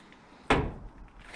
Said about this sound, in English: So thankfully, opening the hood, I was able to close the door.